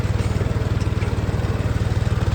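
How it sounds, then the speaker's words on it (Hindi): A tractor engine labours under a rotavator load with its revs dropping, giving a loud, close, steady rhythmic low thrum. "क्योंकि भाई ट्रैक्टर बहुत RPM ड्रॉप करके चल रहा है।"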